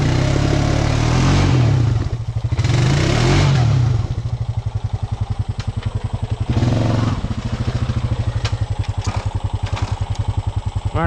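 A Honda Rancher ATV engine revs hard and pulses rapidly as its wheels spin on tree roots while climbing a muddy trail, loud and close, surging and easing in waves with a clattering drivetrain.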